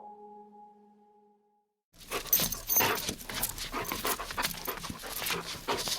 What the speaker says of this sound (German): Garon ist ein Hoverwart. Das ist eine Hunderasse mit schwarz-braunem Fell und Lampi-Ohren.